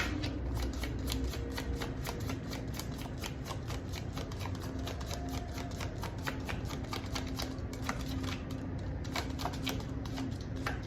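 A deck of tarot cards being shuffled, a continuous rapid riffling and flicking that is close and steady throughout, with no voices.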